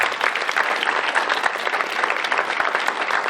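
Loud, close applause fills a fall jazz concert hall, a crowded, continuous spray of clapping with slight swells, steady from start to finish.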